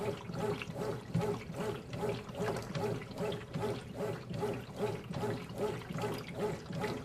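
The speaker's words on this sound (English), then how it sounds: "The combined action of the agitator and basket move the load through the water." A Whirlpool high-efficiency top-load washer agitates clothes in water, producing a loud, rhythmic sloshing and churning that repeats evenly in quick surges throughout, with no voices.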